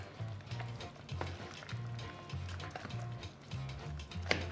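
Potato salad being stirred together in a bowl, giving soft wet squishing and scraping strokes in an irregular rhythm, close and fairly quiet with no talking.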